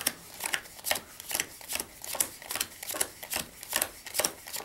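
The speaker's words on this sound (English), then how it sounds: "Next, you deal them out into two piles." Playing cards are dealt into two piles in steady rhythmic flicks, about two per second. Each flick is a soft crisp snap, close and fairly quiet.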